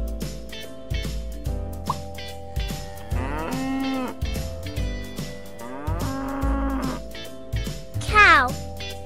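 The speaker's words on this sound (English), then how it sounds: "Cow." Cartoon-style cow moos in a children's farm counting song, several drawn-out lowing calls over steady background music with no talking.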